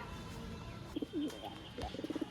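Madras Giribaz pigeons give a few short, close cooing bursts over a steady background hum, with a pause and then a quick run of rhythmic coos at the end.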